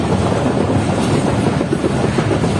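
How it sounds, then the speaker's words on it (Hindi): Karakoram Express passenger train running at speed, a steady loud rumble with continuous rhythmic clickety-clack of wheels on rails heard from inside the carriage, no voices. "काफ़ी अच्छी स्पीड में ट्रेन आगे बढ़ रही है।"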